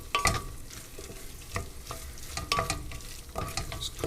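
Onion sauce with tomato paste cooks in a pan, a steady close sizzle broken by repeated scraping stirs and clinks every second or so, with no talking.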